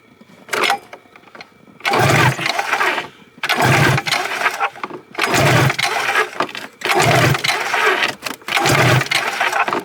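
Snowmobile engine cranked over by its pull cord during a cylinder compression test, five or six loud chugging bursts, each lasting about a second, close by, with brief pauses between pulls.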